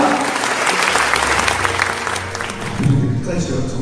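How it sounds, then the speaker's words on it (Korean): A forum audience gives a hearty round of applause, dense clapping that fills the space throughout, loud and close, with a voice over the clapping. "힘찬 열렬한 박수로 제 인사를 나눠보려고 합니다"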